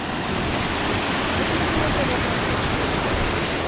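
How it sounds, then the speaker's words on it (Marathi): Continuous rushing, gurgling water fills the air, loud and steady like a nearby stream tumbling over rocks, on a mountain fort trek in the Sahyadri hills. "पाणी खळखळ खळखळ"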